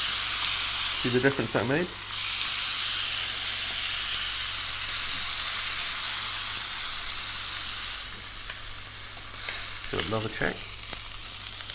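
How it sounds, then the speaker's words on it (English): A beefsteak sears in a hot pan, giving a loud, continuous close sizzle and fry hiss throughout, with a person speaking briefly over it twice. "Another little sear on its skin. On its fatty edge."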